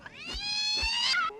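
A cat in a horror comedy film scene gives one drawn-out, clear meow that rises and then falls, loud and close, with faint background noise underneath.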